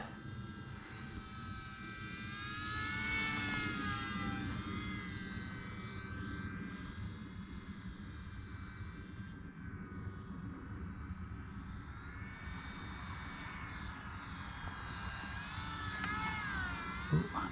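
An E-flite UMX Carbon Cub SS radio-controlled model plane in flight, its small electric motor whining steadily with pitch rising and falling as it passes near and away, fairly faint against outdoor background.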